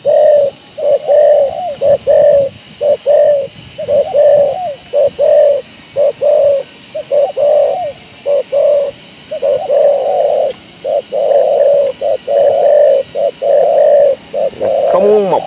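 Spotted doves from Phú Yên coo close and loud, repeating short rhythmic phrases with brief gaps that run steadily throughout.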